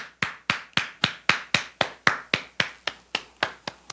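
A church congregation at a Wednesday worship service claps in thanks: about fifteen sharp, evenly spaced claps in a steady, synchronized rhythm, close and fairly loud, with no talking.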